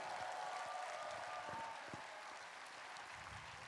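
A church audience at an autumn concert in Incheon gives warm applause to two performers, a soft, steady wash of clapping heard at a distance with a few louder hand claps close by.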